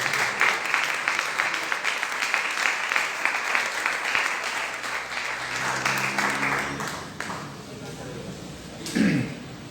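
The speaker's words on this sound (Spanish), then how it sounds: "Un aplauso fuerte a nuestro Dios" A church congregation breaks into loud, sustained applause during a Spanish-language sermon, the clapping fading toward the end, followed by a brief cough or thud.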